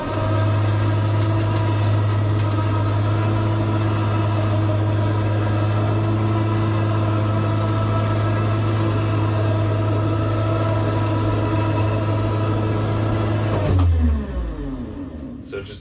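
An electric winch with pulleys, lifting a space-saving bed in a tiny house, gives a loud, steady motor hum for about fourteen seconds, then stops and winds down abruptly.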